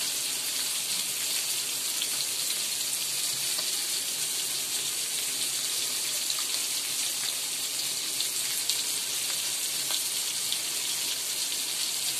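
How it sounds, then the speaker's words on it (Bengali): Fish frying in hot oil in a home kitchen gives a steady, dense sizzle and crackle that runs unbroken for the whole stretch, close and even, with no talk over it. "ভাজা হচ্ছে তেলে।"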